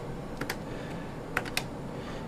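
Faint, sparse keystrokes tap out a track name on a QWERTY keyboard for an audio mixing console, a handful of quiet clicks in two small pairs over a low, steady background hum.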